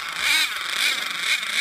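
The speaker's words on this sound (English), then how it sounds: "now we're going to run both engines at the same time and see how they actually perform together" Twin-engine nitro RC truck, a heavy metal-built model, with both small nitro engines running together, giving a steady high-pitched buzzing whine with slight swells in pitch throughout, close and fairly loud with no talk.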